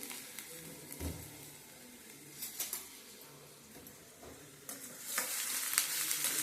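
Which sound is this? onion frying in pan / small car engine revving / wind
onion frying in pan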